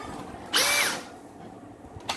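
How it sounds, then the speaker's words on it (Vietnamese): A black two-function cordless drill spins up in a single short whining burst of about half a second, close by, with a high rising motor tone, then falls quiet apart from a faint click. "Khoan 2 chức năng màu đen."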